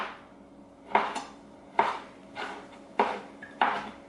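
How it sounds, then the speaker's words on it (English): A knife chopping an ingredient for Italian pasta salad on a cutting board, five crisp knocks spaced about a second apart, close and clear in a quiet kitchen. "I am just going to chop this up"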